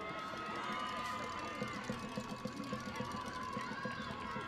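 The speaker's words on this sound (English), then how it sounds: "You can hear the Capilano cheer squad along this near side looking to energize their team" Capilano cheer squad on the near side of a women's soccer championship gold medal match, chanting and cheering in rhythmic bursts from a distance, under steady crowd noise and a commentator's voice.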